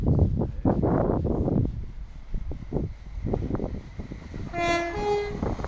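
A Hull Trains passenger train rumbles past close by at Northallerton station, its engine noise rising and falling, then a loud two-tone horn blares near the end.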